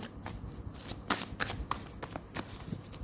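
Tarot cards are shuffled and drawn by hand, giving quick papery riffles and flicks in short irregular bursts, close and fairly soft, with no talking over them.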